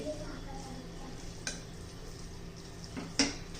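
Cheese Maggi noodles being stirred in a pan, soft scraping and stirring with a couple of sharp clinks of the spoon against the pan over a low sizzle.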